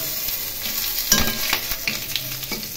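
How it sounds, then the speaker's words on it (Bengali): Green chilies, dry red chilies and nigella seeds hit hot oil in a pan for a Bengali tempering, giving a loud, close crackling sizzle with sharp pops and stirring scrapes throughout. "এখন ওই তেলের মধ্যে কাঁচা লঙ্কা, শুকনো লঙ্কা ও কালো জিরে ফোড়ন দিলাম।"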